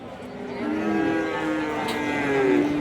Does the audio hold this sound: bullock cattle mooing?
yes